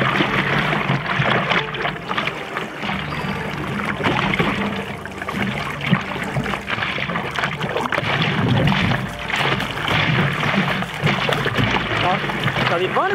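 A stand-up paddleboard paddle pulls through open water in a C stroke, giving a continuous, close wash of splashing and water churn mixed with gusting outdoor wind.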